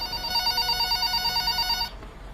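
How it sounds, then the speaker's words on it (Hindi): A phone rings in a room in a home, sounding as a steady electronic trill that repeats evenly for about two seconds and then stops abruptly, leaving quiet room tone. "देखो कमरे में किसका फ़ोन बज रहा है।"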